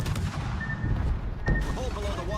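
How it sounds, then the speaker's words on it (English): A torpedo strikes a ship in a naval video game: a dull booming impact about halfway through, over continuous rumbling battle noise, with someone talking over it. "where did this freaking torpedo come from?"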